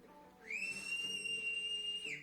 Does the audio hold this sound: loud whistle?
yes